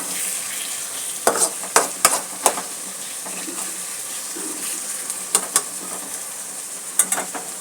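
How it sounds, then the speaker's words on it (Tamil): Tomato and onion sautéing in a pan for a mutton-style curry, a steady sizzle broken by sharp scraping stir strokes in short clusters, close and fairly loud with no talking. "தக்காளி வெங்காயம் நல்லா இது மாதிரி வதங்கிச்சு."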